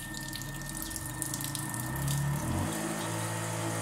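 A softwash pump fitted to a Gardiner backpack sprayer whirs close by with a watery hiss, its hum climbing in pitch and getting louder partway through as it speeds up to full speed.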